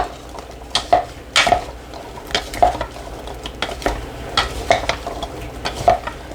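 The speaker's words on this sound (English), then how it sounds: "let me stir that up" Radishes coated in oil being stirred for roasting: irregular scraping strokes and light clinks of a utensil against the pan, close and alone with no talking.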